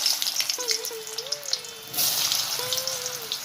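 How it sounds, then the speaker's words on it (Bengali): Diced potatoes frying in hot mustard oil give a steady, close sizzling hiss with crackles, and a faint wavering tone sits underneath. "এই দেখো তেলটা আমার গরম হয়ে গেছে, এবারে আমি আলুটা ভেজে নেব।"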